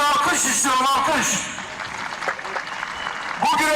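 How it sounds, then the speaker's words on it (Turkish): Crowd applause at a Turkish oil wrestling (yağlı güreş) event in Bursa, a broad burst of clapping that fades after about a second and a half into murmur and an announcer's voice, then swells again at the end. "Şu ana kadar yapılan güreşlerden memnunsanız sizlerden bir alkış istiyorum, alkış."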